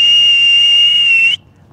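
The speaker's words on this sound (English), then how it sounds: "I'm going to whistle." A person whistles one loud, clear, steady high note that holds for just over a second and then cuts off abruptly into near silence.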